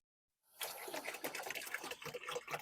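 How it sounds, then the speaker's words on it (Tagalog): Lukewarm water being refilled into a pet's dish in an enclosure fitted with heating rocks and a heat lamp, heard as a steady close splashing, trickling pour that starts abruptly and keeps going without a break. "Refill na po ng G natin yan na may tubig. Maligam-gam na tubig po yan."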